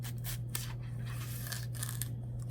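A credit card slid along the edge of a watercolour block, releasing the glued paper with a steady scraping, tearing rasp over low background hum.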